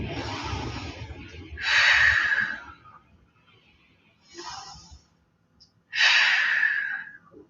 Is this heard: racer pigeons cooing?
no